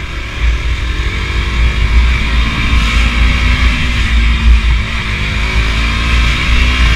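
A KTM Duke 200 BS6 motorcycle engine revs steadily in second gear, a loud, close, continuous engine drone with low rumble and shifting pitch throughout, no talking.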